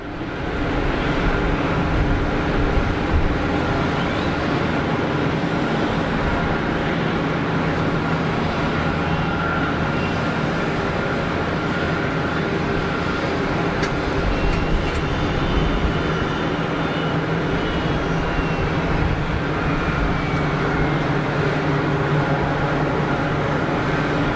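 A steady, loud jet roar from an EasyJet airliner on very short final at Geneva Airport, a continuous broadband rumble that holds level throughout without any talk.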